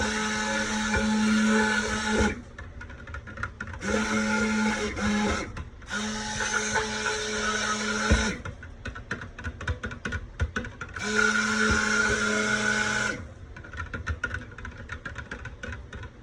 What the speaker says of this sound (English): I'm just burping the stick blender